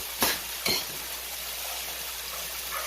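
Chinese takeout-style barbecue chicken wings being tossed in a pan, with two sharp clatters near the start and then a soft steady sizzle underneath.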